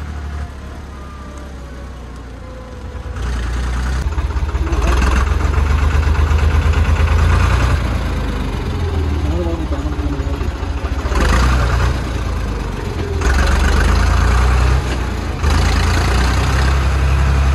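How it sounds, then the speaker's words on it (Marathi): Low rumbling tractor engine chugging slowly nearby, steady at first, then swelling slightly louder and holding a heavy, even drone. "ट्रॅक्टर एकदम सांभाळून हळू चालायला लागतो"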